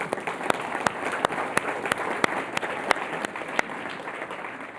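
Steady round of applause from a club luncheon audience, dense continuous clapping with a few sharp louder claps standing out, sustained throughout without speech.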